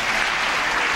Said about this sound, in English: I never saw warts get so much applause